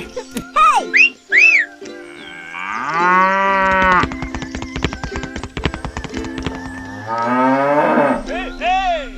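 Cow mooing in a rural farm setting, several drawn-out bellowing calls loud and close, mixed with whistle-like animal cries and scattered clip-clop or knocking sounds.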